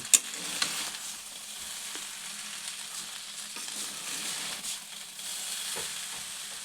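Orange rice being stirred in a pan with fried cashews and raisins, producing a soft, steady sizzle with occasional light scraping and tapping of a spoon, fairly quiet and close.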